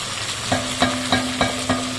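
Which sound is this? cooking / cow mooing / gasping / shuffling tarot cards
cooking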